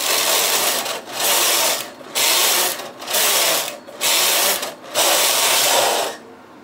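A knitting machine's lace carriage makes five loud, steady mechanical passes across the needle bed, each lasting about a second with a brief pause between, while a scalloped lace edge is being worked.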